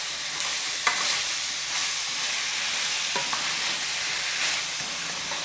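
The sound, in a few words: stirring chicken and potatoes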